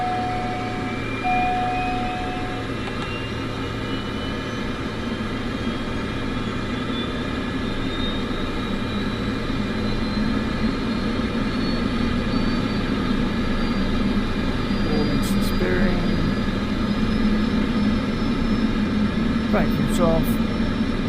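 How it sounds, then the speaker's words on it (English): An aircraft engine spools up during start in Microsoft Flight Simulator 2024, a loud continuous turbine whine that climbs steadily in pitch over a constant rumbling drone, with a few faint clicks late in the run. "Engine's good. Throttles are responsive. Good engine start."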